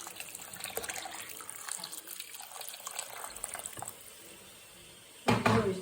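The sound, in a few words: water being poured into fish curry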